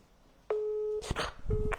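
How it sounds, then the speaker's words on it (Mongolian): A telephone busy signal sounds as a steady beep, then a shorter second beep after a brief gap, with muffled noise and a voice between them during a live phone call. "Утсан завгүй болтоод эхэлсэн."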